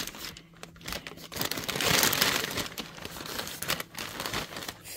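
Wrapping paper crinkles and rustles while a reborn toddler doll is unboxed, swelling into a fuller crumple midway and then settling into lighter handling sounds close by.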